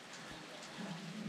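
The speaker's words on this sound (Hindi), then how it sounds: "कल रात से ही बारिश लगी हुई थी यहाँ पे" Rain falls steadily in a soft, even hiss, faint and continuous with no voices.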